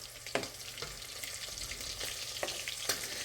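Pork sausage sizzling in a frying pan, a steady close crackle broken by a few sharp clicks and scrapes, with no voices.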